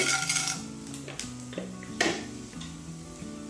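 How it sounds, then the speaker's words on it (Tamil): Urad dal and chana dal dropped into hot oil in a pan, giving a steady close sizzle with light scattered clinks and crackles. "எண்ணெயில் உளுத்தம்பருப்பு சேர்க்குறேன், கடலைப்பருப்பு,"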